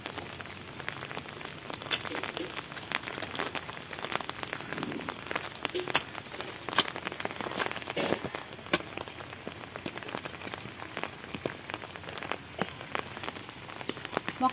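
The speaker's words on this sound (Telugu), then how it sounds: "వర్షం కురిసినట్టే ఉందండి." Rain patters steadily across a home garden where eggplant and tomato seedlings are being planted, a dense crackle of drops lasting the whole time, close and even, with no voices.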